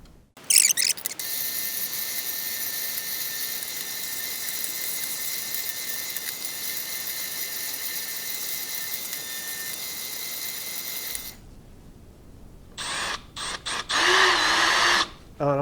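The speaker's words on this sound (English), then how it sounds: "Really just looking for an excuse to use my newly refurbished Craftsman drill press." A refurbished Craftsman drill press runs with a steady, loud motor whine for about eleven seconds, then stops, leaving some workshop clatter and handling noise afterward.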